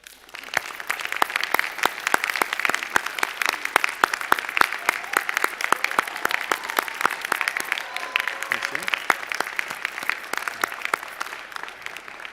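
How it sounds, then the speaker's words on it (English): A crowd at an evening university commencement applauds the graduates' families and friends with dense, sustained clapping that holds steady for about twelve seconds before thinning slightly at the end. "join me in a round of applause for your families and friends here tonight"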